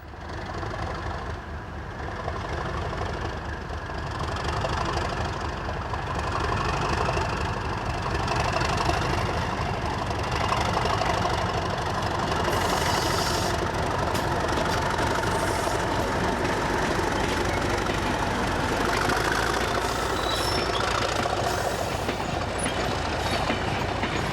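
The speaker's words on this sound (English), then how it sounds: "Here a Class 37 departs from the remote Rennaissance station with the returning empties" A Class 37 diesel locomotive pulls away from remote Rennaissance station with a train of returning empty wagons, its engine a steady, loud drone with rumbling wagons throughout, no voices.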